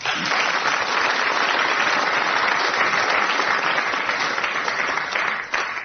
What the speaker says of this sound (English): he gets a book token and a round of applause